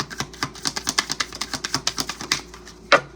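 A rapid run of light, papery riffling clicks of cards being shuffled, evenly paced, close by, ending in a single sharper snap.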